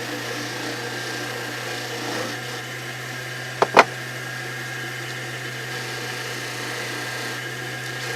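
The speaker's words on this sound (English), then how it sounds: "going to buff up this piece on my buffing wheels here" A buffing wheel spinning at about 1200 to 1700 RPM polishes a motorcycle pen part, a steady close motor hum and whir throughout with one brief scuffing contact midway.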